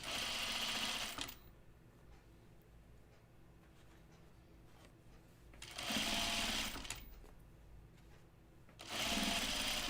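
Sewing machine stitching continuously around a top: three bursts of fast, even motor whirring, each running a second or more, separated by quiet pauses.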